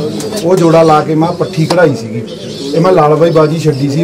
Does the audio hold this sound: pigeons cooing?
yes